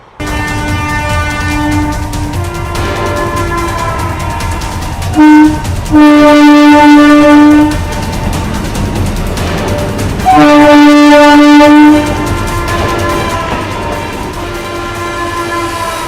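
An intercity train on the Dahod–Bhopal route sounds two loud, sustained horn blasts over the steady rumble and clatter of the moving carriages, heard close from on board.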